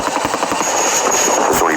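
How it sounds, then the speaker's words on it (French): Chinook helicopter delivering a sling-load basket of supplies to French parachute commandos in Niger, its rotors thudding in a loud, continuous chop with a steady whining turbine, close overhead, with voices faintly mixed in. "panier attaché à un hélicoptère chinook."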